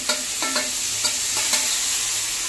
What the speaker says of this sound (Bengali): ভালো করে কষিয়ে নিব মশলাটা